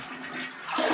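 A toilet flushing in a tiled hotel suite bathroom at an Orlando resort, a steady rushing swirl of water that surges louder toward the end, close by with no talking.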